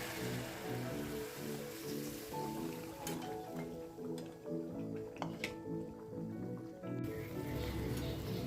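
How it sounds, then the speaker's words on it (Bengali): Hot water goes into a pan of cooked ginger, cumin, chili and onion spice paste, with quiet splashing, dripping and bubbling, a few sharp clicks and clatters, and a louder gush near the end. "গরম জলটা দিয়ে দিই"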